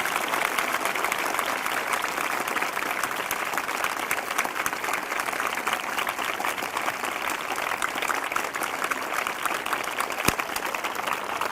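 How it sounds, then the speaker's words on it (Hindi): A large congregation at a Sunday evening church meeting claps loudly and continuously, a dense, even roar of applause that holds steady throughout with no break. "फिर से जोरदार ताली बजाकर प्रभु को धन्यवाद दें।"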